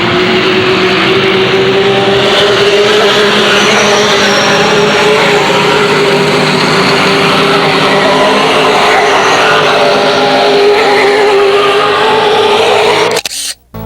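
Race cars of the ARTGO series lap the fast Illiana track, a loud, continuous, droning engine whine that rises slowly in pitch before cutting off abruptly at the end.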